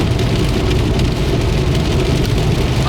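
Steady, loud rain drumming on a car during a drive on an icy road at 0 Celsius in the Spanish countryside, a continuous dense patter with low road rumble and no voices.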